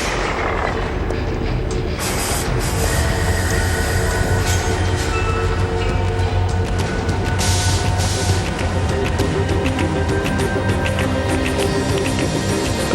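A CSX freight train rumbles past steadily and loudly, with a continuous heavy clatter of wheels on rails and a low droning throughout.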